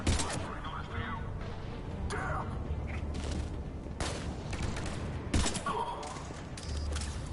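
Pistol gunfire in Mass Effect 3: several sharp, loud shots ring out at intervals over dense game combat noise and music, with a voice talking in places.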